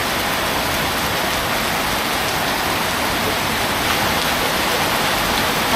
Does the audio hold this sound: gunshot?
no